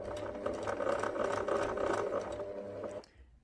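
A sewing machine runs a short burst of stitches through fabric for a memory bear, a steady close mechanical whir that stops abruptly near the end.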